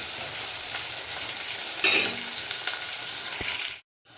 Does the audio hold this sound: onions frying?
yes